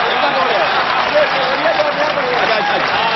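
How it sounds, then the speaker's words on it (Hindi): Enthusiastic applause from a large audience at a mushaira poetry gathering welcoming a poet, dense continuous clapping with crowd voices mixed in. "इस्तकबाल कीजिए डॉक्टर राहत इंदौरी का, जोरदार तालियों से।"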